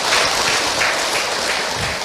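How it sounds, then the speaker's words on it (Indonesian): A hall audience of mothers at an Islamic sermon by Ustaz Hilman bursts into steady, dense applause that holds at an even level for the full two seconds, with no break or voice over it. "Tepuk tangan ibu untuk Ahilman."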